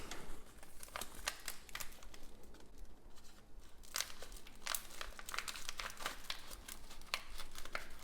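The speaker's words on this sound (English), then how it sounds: "And we are going to open this bag here." A bag of coarse-ground coffee is torn and opened at home by a drip coffee machine, giving repeated sharp crinkles and rustles of the packaging throughout, close and quiet, with no speech.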